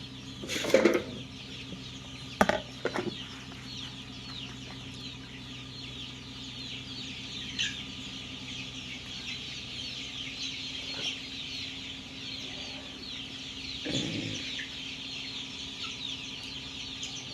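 Chickens cluck intermittently in the background of a steady hum, with a few louder clucks up close and faint farmyard noise throughout.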